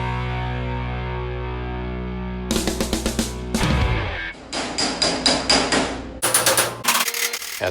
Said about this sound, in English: Rob used basic hammer and dolly tools to flatten out all of those imperfections on the bottom edge of the run board.